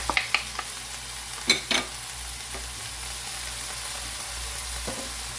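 Crab is stirred and sautéed in a pan: a constant close sizzle runs throughout, with sharp scrape-and-clack strokes of a utensil near the start and a pair of louder knocks midway, no voices.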